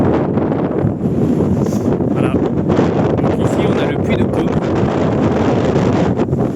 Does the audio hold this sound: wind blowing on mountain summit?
yes